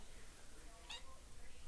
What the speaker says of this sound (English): my cat is wanting to come over and say hi